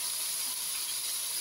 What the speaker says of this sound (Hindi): ये देखिए इसको इस तरह से अभी भून रही हूँ